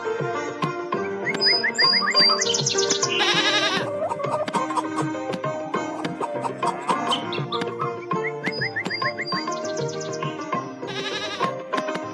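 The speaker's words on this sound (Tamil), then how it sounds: "ஆட்டுக்குட்டியை தூரமாக செல்." A lamb bleats repeatedly in a Tamil-language animated story, its wavering calls recurring in bursts over a busy musical backing.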